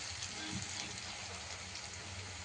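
Oil frying in a pan while cooking an egg fry with fish, a dense, steady sizzle and crackle at moderate level throughout, with faint background sounds beneath.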